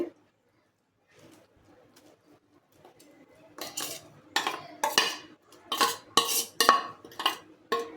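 A spoon stirs ground coconut into milk in a pan for coconut barfi. After a quiet start, a run of rhythmic, close metallic scraping strokes follows, with a faint bird cooing in the background.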